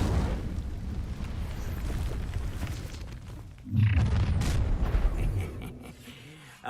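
An Incendio fire spell cast in the video game Hogwarts Legacy: a steady rumbling game soundscape broken by a sudden booming fiery burst with crackling, eruptive texture that fades out.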